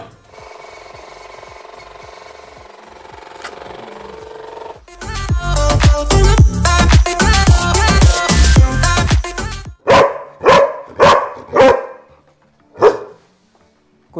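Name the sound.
dogs barking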